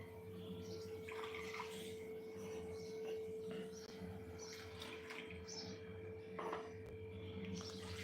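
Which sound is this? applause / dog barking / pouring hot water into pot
pouring hot water into pot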